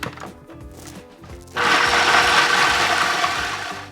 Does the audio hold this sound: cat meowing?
no